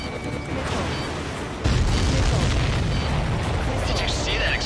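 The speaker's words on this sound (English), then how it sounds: "Did you see that explosion?" A missile explosion in the Ace Combat 7 video game hits as a sudden deep boom partway through, then a heavy rolling rumble that carries to the end, with radio voices talking throughout.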